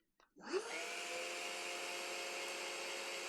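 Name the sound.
Henry Quick Pro vacuum cleaner running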